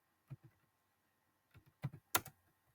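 Keystrokes on a computer keyboard come in two short bursts separated by a pause, with a few sharper clicks near the end. The sound is close and fairly quiet, with nobody talking over it.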